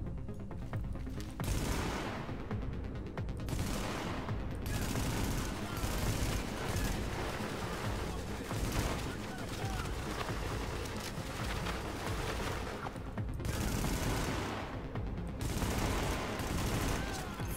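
A heavy exchange of gunfire in The Division, with sustained bursts and booming shots rolling on for many seconds and brief lulls between volleys, dense and loud.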